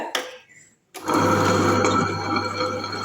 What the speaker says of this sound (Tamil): இப்போ கிரைண்டர் ஆன் பண்ணிவிட்டு